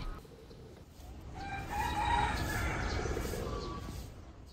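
Free-roaming chickens and ducks in an enclosure at Batu Caves give faint, soft clucks and calls that swell briefly near the middle against low background ambience.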